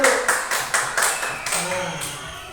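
Students in a classroom clap their hands together in a quick, steady rhythm, sharp repeated claps at close range with voices mixed in underneath.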